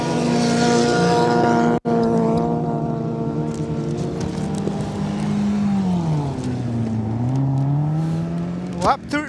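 Front-wheel-drive four-cylinder production-class race cars in a main-event race: loud, continuous engine drone with layered tones that dip and climb as cars pass close, a sharp thump near the start, and rising revs at the end.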